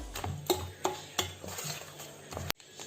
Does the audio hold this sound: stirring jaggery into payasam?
yes